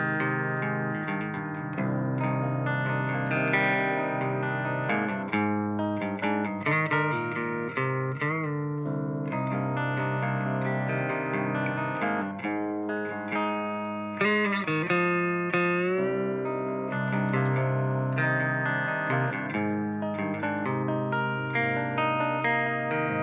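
Eight clean electric guitar tracks recorded through real amplifiers play together in a layered, chiming mix of sustained chords and picked notes, steady and full with no voices.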